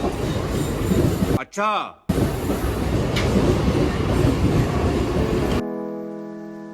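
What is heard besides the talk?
Mumbai local train running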